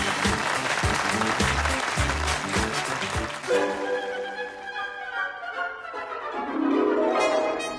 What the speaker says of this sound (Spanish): creo que nos merecemos un aplauso.